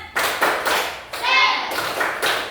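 Children clap together in a quick rhythmic pattern of several sharp claps, close and loud, with a brief chanting voice in the middle.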